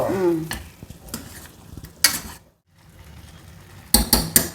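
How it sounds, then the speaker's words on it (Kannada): Ground masala for chicken gravy fries in a pan while a spoon stirs and scrapes against the metal. Bursts of clinking and sizzle come close up, separated by brief quiet stretches. "ಮಸಾಲ ಹಾಕ್ತಾ ಇದ್ದೀನಿ ಇದು ಒಂದೆರಡು ನಿಮಿಷ ಮಸಾಲ ಇದ್ರಲ್ಲಿ ಬೇಯಬೇಕು"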